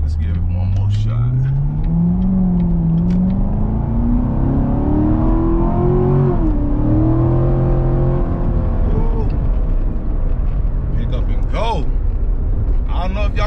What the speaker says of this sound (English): I don't know if y'all can hear that, but them pipes is rumbling back there